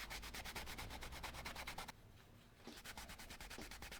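Rapid back-and-forth rasping of sanding a leather card wallet's edge up close, a steady scratchy rhythm that pauses briefly, then resumes more softly.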